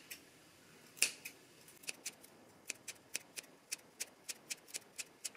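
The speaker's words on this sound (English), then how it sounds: "a pair of scissors and you just want to cut along the curve, just like little snips" Scissors make quick little snips through cotton fabric while cutting along a curve: a string of sharp, close, crisp cuts, first irregular, then settling into a steady rhythm of about two per second, quiet and alone.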